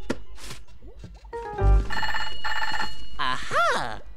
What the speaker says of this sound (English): Where did I put that phone?